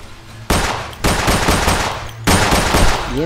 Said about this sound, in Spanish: Nos pueden disparar, miren esto.